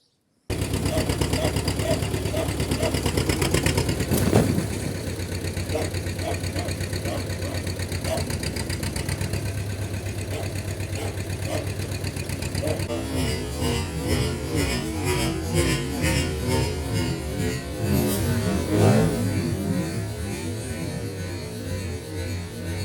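A tractor engine idles and labours while pulling down a derelict garage, a steady mid-pitched diesel drone with knocking and clattering, rougher and more uneven in the second half, with no speech.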